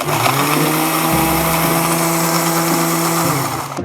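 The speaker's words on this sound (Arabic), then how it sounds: "بجد صوت تكسير التلج مرعب." Loud, steady blender grinding with a rough crunching edge, the motor pitch dropping briefly as it chews through ice, then cutting off at the end.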